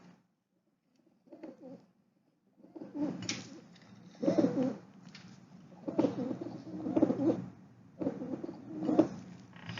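Pigeons being fed coo softly in repeated low, throaty bursts, close by and fairly quiet, with a few brief pauses between the calls.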